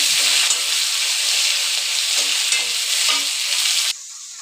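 Chopped onion frying in hot oil with curry leaves and green chilli for masala dosa filling, a loud steady sizzle with scraping stirs throughout that suddenly drops quieter near the end.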